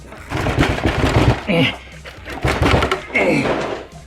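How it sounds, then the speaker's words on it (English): An olive oil bottle is knocked over inside a house, giving a few dull thunks and knocks close by, mixed with voices and background noise. "I knocked over the olive oil over there by shaking the house"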